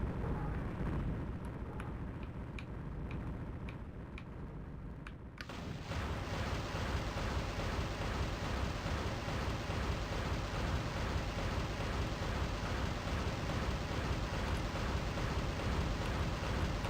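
Missile explosions in the space game Escape Velocity Nova roar as a dense, continuous barrage of booming blasts, loud and steady, after a few separate pops at the start.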